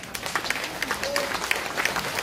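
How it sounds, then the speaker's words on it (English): An audience at a launching ceremony for a microcredit program applauds, with scattered, fairly quiet clapping that rises and falls over a soft crowd murmur. "Please join me in giving a big hand of applause to our Secretary Mamonjong,"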